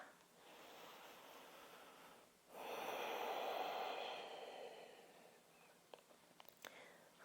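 A deep breath is drawn and released during a yoga balance pose: a long, breathy rush of air, close and fairly soft, followed by a few faint clicks.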